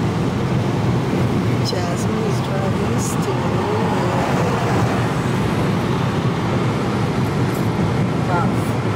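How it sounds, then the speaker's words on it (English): A car cruising at about 106 km/h on a wet German Autobahn, with steady broadband tyre hiss and road roar filling the whole stretch, loud and constant, and a voice speaking over it. "I'm on the Autobahn."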